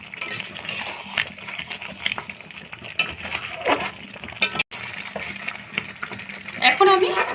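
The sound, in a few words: stir-frying pointed gourd with yogurt and sugar in pan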